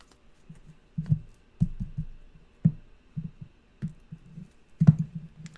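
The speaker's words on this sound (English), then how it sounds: "We'll give them a fast shuffle here." Tarot cards being shuffled quickly by hand, heard as scattered soft riffling bursts and papery taps in short irregular clusters, close and fairly quiet with gaps of silence between.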